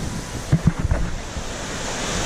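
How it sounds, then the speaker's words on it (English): Ocean waves and wind at Queens Beach in Bowen, North Queensland: a steady roar of surf and blustery wind buffeting the microphone, with a few soft thumps near the start. "I hope you can hear me over the waves and the wind"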